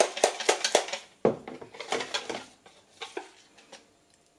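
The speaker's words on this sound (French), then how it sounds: "Vraiment essayer de bien mélanger." A utensil clinks and scrapes rhythmically against a bowl while sidr and shikakai powder is stirred into warm water for a shampoo, quick close strokes that slow and soften toward the end.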